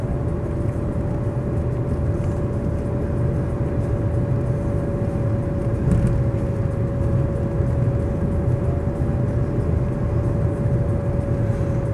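Steady engine and road drone from a BMW 318iS 1.9 coupe on the move, an even, continuous hum with a faint whine, no talk over it.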